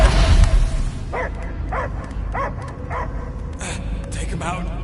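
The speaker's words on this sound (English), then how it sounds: "I hear only barking." Dog barking in the video game Guardians of the Galaxy, a string of five or six evenly spaced yips and barks over music and game ambience, mid-distance and moderately loud.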